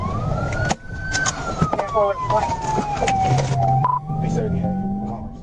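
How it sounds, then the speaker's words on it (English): A police car siren wails in a slow rising and falling sweep over steady traffic noise at a red light, with a second lower tone joining near the end. "The police caught up to the vehicle at a red light and activated their sirens and lights"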